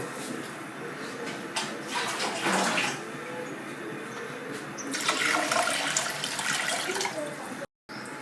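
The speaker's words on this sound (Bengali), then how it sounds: "আমি ডালটা ধুয়ে আগে ছেড়ে দিচ্ছি" Water runs and splashes as red lentils are washed for aloo dal, a steady close rush that swells louder in two stretches, then briefly cuts out near the end; no speech.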